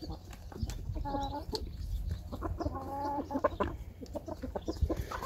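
Farmyard roosters crow twice from nearby, each crow a drawn-out, strained call, with scattered clucks and other poultry noises around them.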